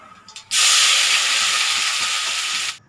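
Cumin seeds hit hot oil for a tempering and burst into a loud, bright sizzle that starts abruptly and holds steady for about two seconds before cutting off, with faint clatter just before.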